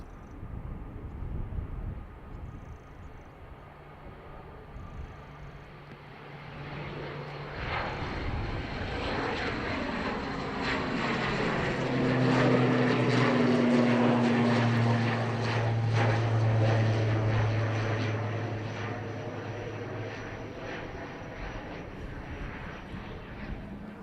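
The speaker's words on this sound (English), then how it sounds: "Better for the aircraft noises." Aircraft engines roar at a rain-soaked Dublin Airport, a plane's engine rumble swelling to a loud peak midway with rising tonal whine, then slowly fading into distant background noise, no talking.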